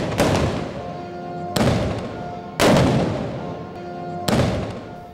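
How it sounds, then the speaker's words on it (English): Cannons and guns boom in a Moors and Christians battle reenactment in Spain: four loud, close blasts spaced a second or so apart, each with a long rolling echo. "the Moors attacked with cannons and guns until the Christians had retreated within"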